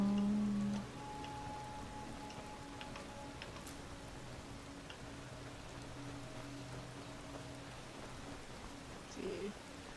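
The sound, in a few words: rain falling in the video game Skyrim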